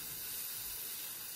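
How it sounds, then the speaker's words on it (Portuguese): Chopped onion and parsley fry in a pan, giving a steady, close sizzling hiss that holds evenly for the whole short stretch without any talk. "Deixa-se fritar aqui."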